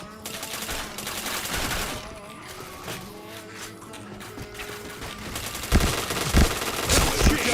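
Rapid bursts of automatic gunfire and single shots from a shooting video game sound almost continuously over a dense backdrop, with heavier, louder blasts toward the end.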